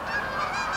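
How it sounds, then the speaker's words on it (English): A flock of geese honking overhead, a continuous overlapping chorus of nasal honks at moderate distance with no talk. "Stupid geese."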